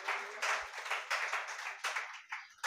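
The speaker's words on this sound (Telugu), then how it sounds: "గట్టిగా చప్పట్లు కొట్టండి" A church congregation claps loudly in uneven, overlapping bursts that swell and fade in waves during a Telugu worship service, with no voices heard.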